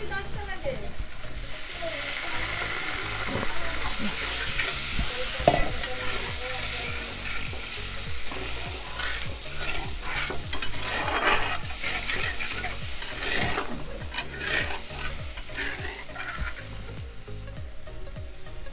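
Water poured into fried spices in a pan for a Bengali puti fish spicy gravy, sizzling and hissing steadily while a utensil scrapes and stirs in repeated strokes, close and loud throughout.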